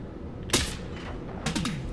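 Two sharp shots ring out in a hunting video game, a crisp crack followed about a second later by another report with a short tail, fairly quiet against a faint ambient bed.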